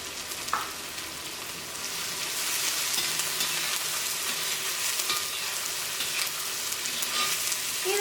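Onion, garlic, ginger and curry leaves sauté in coconut oil with a soft, steady sizzle that swells slightly after the first couple of seconds, close up with faint stirring and no talk.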